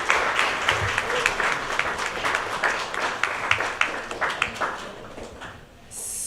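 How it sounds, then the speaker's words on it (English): A seated audience applauds to welcome a discussion panel, a steady wash of many hands clapping at moderate volume that tapers and fades toward the end. "please help me welcome everyone on the panel with a round of applause"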